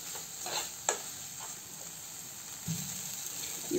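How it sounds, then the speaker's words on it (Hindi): Spice masala with grated ginger sizzles softly in oil, faint frying hiss with a few stirring scrapes and clinks spread through the quiet stretch. "ये देखिए हमारा मसाला बिल्कुल अच्छे से भून गया है और इसका ऑयल बाहर आ रहा"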